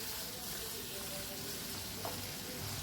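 Marinated beef poured into a hot frying pan for Filipino beefsteak, giving a loud, dense, continuous sizzle that fills the whole clip close up.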